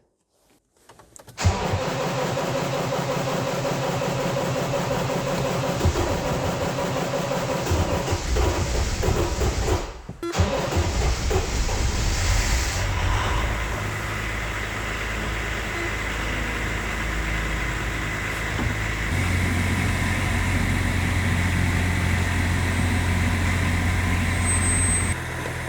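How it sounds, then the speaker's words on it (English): A Range Rover P38 engine cranks and catches, then settles into a steady, loud idle that runs on continuously with a slight change in tone partway through. "Okay, we got the engine running,"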